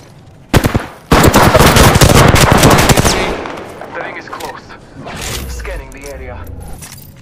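Rapid automatic gunfire in the video game Apex Legends, an indoor fight, rings out in loud, close bursts that stop and start, then gives way to quieter weapon handling, clicks and brief in-game voice lines.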